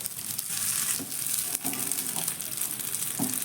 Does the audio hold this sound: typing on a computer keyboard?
no